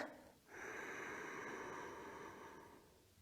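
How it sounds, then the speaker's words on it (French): One long, deep breath drawn in through the nose during a yoga pose, close and breathy, swelling after a short pause and then slowly fading, with no talking. "Dans cette posture, faites un profond inspire"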